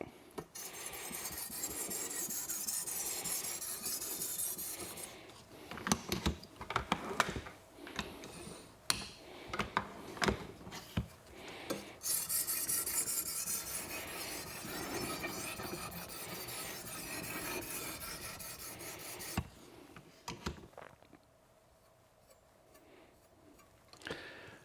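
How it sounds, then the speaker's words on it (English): A chef's knife edge is drawn in light passes across a ceramic sharpening stone, giving a fine hissing rasp in long sustained strokes, broken by a stretch of short scraping clicks and ending in quiet. "So we'll make light passes on this side and repeat that process on the opposite and refine this edge to where we want it."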